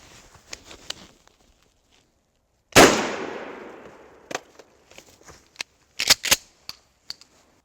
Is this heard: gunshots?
yes